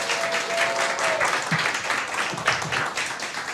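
A church audience at a lecture applauds steadily, dense clapping from many hands filling the room for several seconds without pause.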